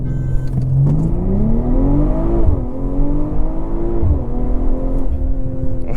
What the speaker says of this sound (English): let's try a quick acceleration. Sport traction.